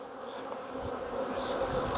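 Honey bees buzz around an open hive during a split of pollination colonies, a dense, steady hum of many insects close by with no talking.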